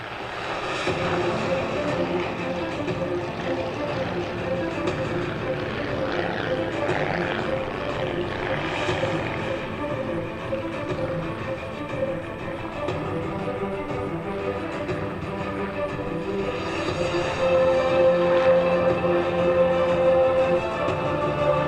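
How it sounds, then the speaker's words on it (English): World War I propeller warbirds from the Great War Flying Museum take off at the 2017 Selfridge air show, a steady loud engine drone and propeller roar that rises toward the end, with faint voices beneath. "We're watching the World War II aircraft take off. These are World War I aircraft."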